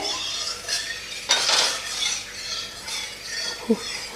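A spatula spreads oil around a hot kadai before rohu fish is fried, making soft metallic scraping strokes with a couple of sharper clinks, close by and with no one talking.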